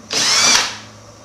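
A single short burst of a power drill whirring at high speed into wood, close and loud, then cutting off.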